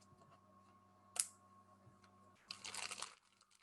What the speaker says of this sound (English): we're just going to pop this dough and wrap it in a little plastic wrap